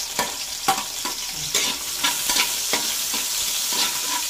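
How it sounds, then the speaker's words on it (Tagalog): Garlic and onion sautéing in a pan for a ginataan dish, a constant close sizzle broken by repeated rhythmic stirring scrapes roughly every half second, with no talking. "igisahin na natin yung ating bawang"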